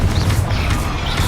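A loud, deep explosive boom from the Confringo fire spell in the video game Hogwarts Legacy fills the moment, a dense roaring burst with a low rumble.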